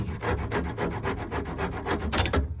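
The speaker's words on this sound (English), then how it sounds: "A little drywall saw too, which is cut through the old hose pretty good." A small drywall saw cutting through an old rubber radiator hose on a Triumph, fast rhythmic rasping strokes repeating steadily at close range for a couple of seconds.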